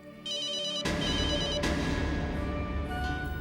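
A telephone rings with a bright, tonal ringtone that starts softly and then swells into a loud, steady sustained tone, close by and without any talking over it.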